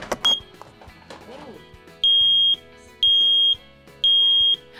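A newly installed smoke detector sounds three loud, piercing beeps in a steady rhythm, each lasting about half a second, after some handling noise and brief indoor chatter.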